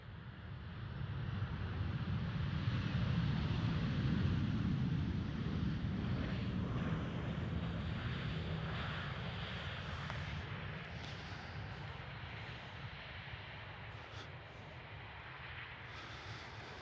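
A KLM Boeing 737 airliner at Amsterdam Schiphol gives off a broad, sustained jet roar that swells over the first few seconds, then slowly eases while still rumbling steadily, with some wind buffeting.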